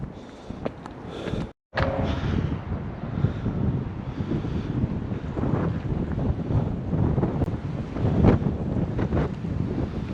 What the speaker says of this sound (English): Getting a bit breezy and windy